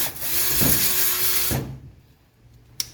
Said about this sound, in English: we have a 150 grit sanding disc